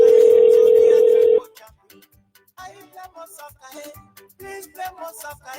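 Telephone call placed to a direct line: a steady dial tone holds for over a second, then stops and gives way to a series of short, irregular tones and clicks.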